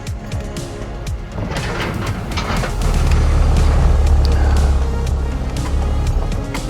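A Talbot Express campervan drives over cattle grids near the Uffington White Horse, giving loud rumbling rattles and clunks over a steady engine drone that grows heavier midway.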